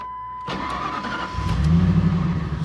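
A Ford F-150 pickup truck engine cranks briefly and catches, then settles into a steady rumbling idle, close and alone.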